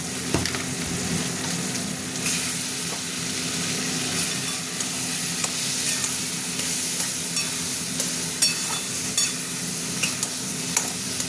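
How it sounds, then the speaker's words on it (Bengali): Taro leaves cooking with prawns and coconut sizzle and fry steadily in a pan while being stirred, a dense continuous crackle with occasional clicks of the spoon, close and loud. "কচুর যে পাতা হয় ডাঁটা নয়, সেই পাতা রান্না করছি।"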